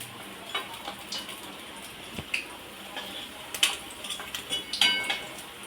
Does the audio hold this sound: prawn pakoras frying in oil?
yes